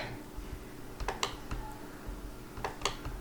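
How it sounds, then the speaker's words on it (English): Scattered keystrokes tapping on a computer keyboard, a few quick clusters of clicks over a low background hum. "I'm typing"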